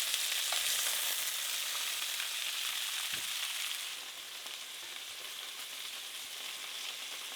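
Bone-in chicken pieces sizzle steadily in olive oil in a pan, a continuous close frying hiss that eases slightly partway through, with no talking over it.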